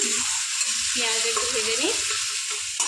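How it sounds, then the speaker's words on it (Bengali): Onions frying in a pan in a home kitchen, a steady close sizzle with faint scraping of stirring and a brief tonal sound in the background. "পেঁয়াজটা ভালো করে ভেজে নিই"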